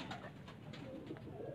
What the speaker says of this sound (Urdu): F17 ابھی چیمپئن کبوتر دکھایا تھا ہم نے تھوڑی دیر پہلے آصف لانا صاحب کی چھت پہ